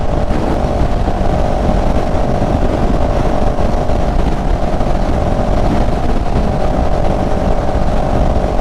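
CFMOTO CLX700 motorcycle engine running in sport mode, a loud continuous drone with steady tonal hum and heavy wind-like roar, sustained throughout without pause.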